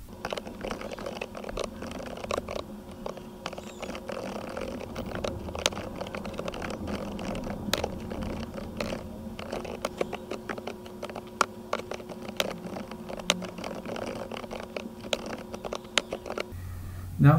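Someone types a C source file in the Vim editor on a Linux computer keyboard, a fairly quick, uneven run of close key clicks over a low hum, ending in a brief louder clatter.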